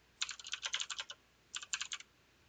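Keys on a computer keyboard are pressed for a shortcut while using MuseScore notation software: two quick bursts of crisp, close clicking taps separated by a short pause, quiet and without talk.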